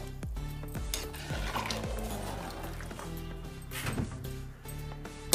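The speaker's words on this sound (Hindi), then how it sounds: "अब इसको एक बार हम अच्छे से चला देंगे।" Vegetable pulao rice is stirred in a pot with a metal spoon, giving a series of close scraping clinks and soft squishing scoops in an uneven rhythm.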